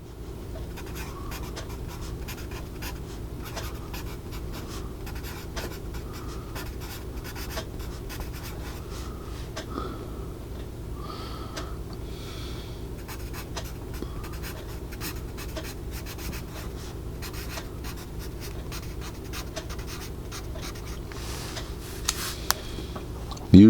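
A Mongol Incense Cedar #2/HB pencil scratches steadily across paper, a continuous soft graphite scrawl heard close up with no talk.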